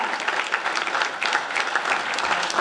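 Applause from the audience at a Lincoln Day Republican dinner gives someone another round: a dense, steady wash of many hands clapping, fairly close and even throughout.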